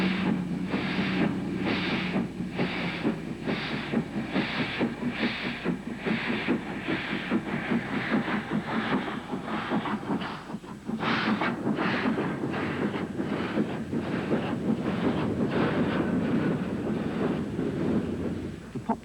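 A vintage steam train runs in Goa, its steady rhythmic chuffing and rolling wheels repeating evenly for a long stretch over a wind-buffeted background.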